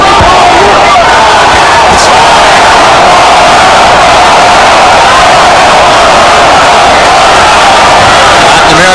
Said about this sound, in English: segment of the crowd chanting Goyo, Goyo, Goyo